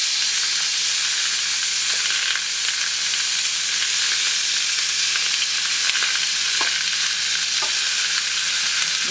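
A chicken steak with vegetables sizzles on a hot sizzler plate, making a loud, continuous, close hiss with faint crackles and no talking.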